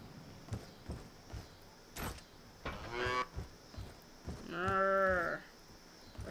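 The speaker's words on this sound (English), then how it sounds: "I think that was a cow." A cow in the video game Arcania Gothic 4 moos twice, a short call then a longer drawn-out moo, over a steady rain-like ambient background.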